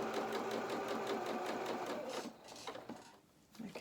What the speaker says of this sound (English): Take this first pin out and let's sew across.